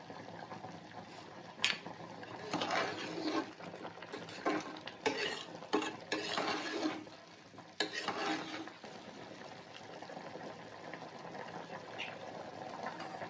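Mutton biryani masala with coriander powder cooks in a pot, stirred with clattering spoon scrapes and bursts of sizzling and bubbling that swell and fade, then settle into a low steady simmer; no one speaks.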